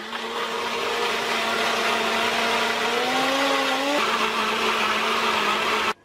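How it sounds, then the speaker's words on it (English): A blender whirs steadily at high speed through frozen mango and coconut milk ice cream, its motor pitch dipping as the load shifts, then cutting off abruptly. "Let's pop it on to blend."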